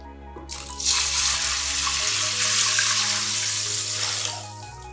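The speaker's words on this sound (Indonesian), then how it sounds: "rendam kacang hijau dengan 1 liter air bersih atau air layak minum seperti ini" A steady stream of water pours into a bowl of mung beans set to soak, starting with a few rattling clinks and then running continuously and fairly loud for several seconds before trailing off.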